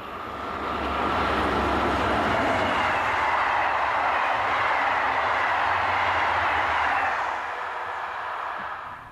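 Locomotive 9268 hauling the 09:21 Tours to Paris service passes by as a broad, steady roar that swells to a sustained rumble for several seconds, then gradually fades away.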